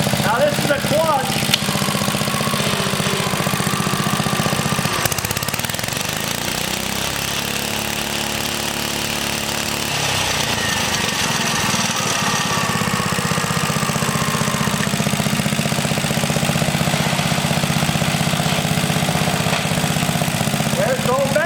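A rare 1950s engine runs steadily throughout, a loud continuous mechanical drone with a low knocking rumble that shifts in pitch partway through, with no pause in the noise.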